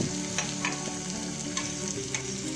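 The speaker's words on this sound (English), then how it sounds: "After adding chopped onions, stir fry on medium heat until the onions turns slightly golden color." Chopped onions stir-frying on medium heat in a pan with garlic for tomato chutney give a steady, close sizzle broken by scraping stirs, with no voices.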